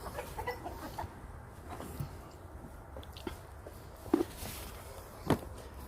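Backyard chickens clucking softly around their grain buckets at feeding time, with faint scattered calls, a couple of sharper louder clucks near the end, and light shuffling in an outdoor farm setting.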